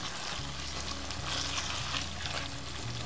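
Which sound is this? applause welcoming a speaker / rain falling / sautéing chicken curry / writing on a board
sautéing chicken curry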